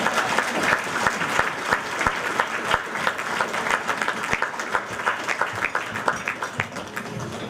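Sustained applause from an audience at an annual fundraiser as a guest is invited onto the stage, a dense wash of many hands clapping steadily and fairly loud throughout.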